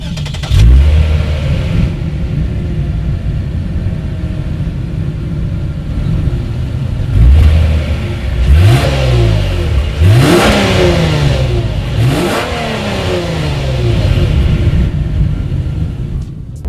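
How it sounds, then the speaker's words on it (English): A 2019 Lexus IS 300 F Sport idles with a deep burble from its dual exhaust, then revs sharply several times in quick bursts, each rising and falling, loud and close. "dual exhaust outlets with chrome tips, so you guys know what we have to do next"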